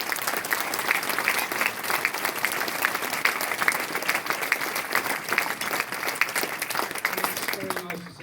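Applause from an audience at a political speaking event in Wolverhampton, a dense, steady wash of clapping that fills the whole stretch at close range and fades slightly at the very end.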